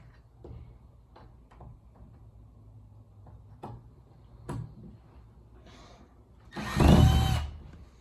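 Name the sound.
drill fastening closet door handle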